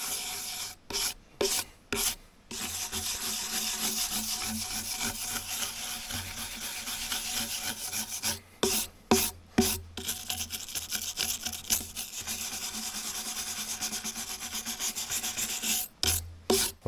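Bark being scraped and peeled off logs for a firewood shack, a steady dense rasping rub that runs on and on, broken by a few brief pauses, close by with no talking.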